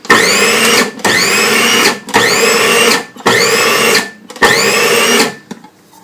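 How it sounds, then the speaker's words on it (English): A food processor whirs loudly in five bursts of a few seconds each, briefly pulsing to chop shredded cabbage finer for vegan gyoza, with short pauses between runs and no talk. "I have my shredded cabbage in the food processor, and I'm just going to process a little bit"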